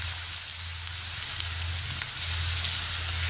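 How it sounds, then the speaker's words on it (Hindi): Onions fry in hot oil over a medium flame while a fried chicken dish is being made, giving a soft, even hiss that stays steady throughout without any talk. "अब हम इसके अंदर प्याज ऐड करेंगे। फ्लेम इसके नीचे मैंने मीडियम ही ऑन की हुई है"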